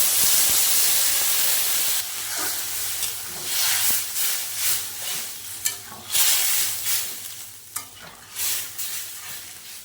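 Water poured onto cumin paste frying in oil for a puti fish curry with water lily stems bursts into a loud, close steam hiss, then settles into uneven sputtering pulses as it bubbles and spits.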